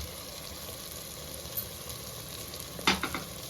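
Onions fry in a pan for keema biryani, giving a steady low sizzle with a brief louder stir or scrape near the end.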